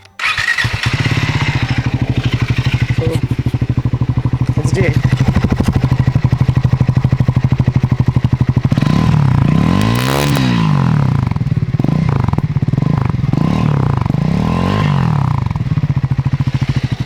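Triumph Scrambler 400X motorcycle engine idling loud and steady with a low thumping exhaust note, then a few short revs blipping up and falling back, with a brief word spoken early on.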